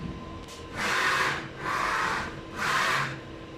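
A sublimation printer runs a nozzle test, its print head carriage making three evenly spaced mechanical sweeps, each about half a second long, with short pauses between them.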